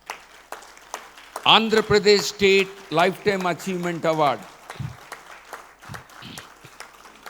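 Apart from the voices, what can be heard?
audience applause at an award ceremony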